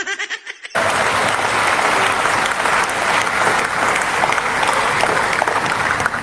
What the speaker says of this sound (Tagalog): Palakpak na naman.